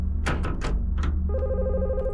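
An old-style telephone bell ringing in the game The Skin Stapler, several quick loud rings in a burst followed by a sustained electronic tone.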